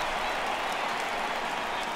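Home crowd applause in a ballpark in MLB The Show 18, Baltimore at Boston, a broad steady wash of clapping and crowd noise that holds at an even level throughout.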